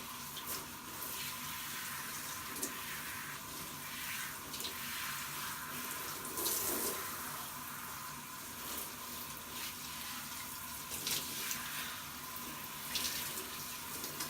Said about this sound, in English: we're just letting the water do its job, and the pressure from the shower head, it's getting in there